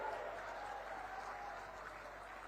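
A crowd claps steadily for a candidate at an outdoor election rally in Korba, Chhattisgarh. The applause is dense and sustained throughout, with faint voices mixed in.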